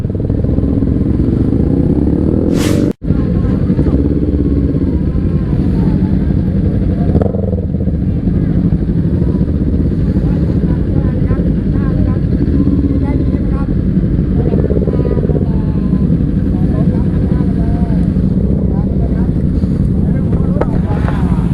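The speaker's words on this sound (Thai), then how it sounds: "ดับเครื่องก่อน มอไซค์ปีป้าใช่ครับมอไซค์ปีป้า" A motorcycle engine runs steadily on a Bangkok street, a constant loud idle drone with one sharp click early on, while voices talk over it.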